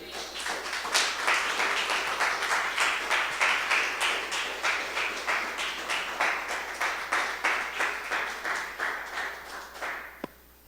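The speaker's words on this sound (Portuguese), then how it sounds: "Receba o presbítero Carlos aplaudindo o Senhor Jesus." Church congregation clapping together in a steady, rhythmic beat to welcome a preacher, loud and roomy with regular unison hand claps that gradually soften before a final sharp knock.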